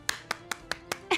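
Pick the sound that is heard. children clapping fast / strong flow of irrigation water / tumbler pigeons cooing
children clapping fast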